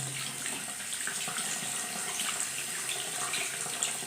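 Running tap water splashes steadily while an underarm is rinsed clean at a bathroom sink, a continuous close wash of water with no talking.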